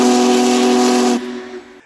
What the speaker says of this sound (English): there is absolutely nothing like the sound of the whistle from a Big Boy